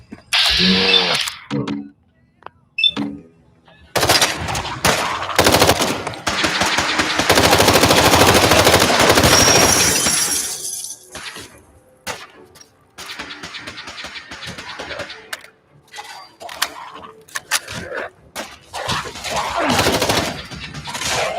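Rapid machine-gun bursts and scattered gunshots crackle in a Fallout 4 firefight, some long sustained volleys and others short, with quiet pauses between them and no talking.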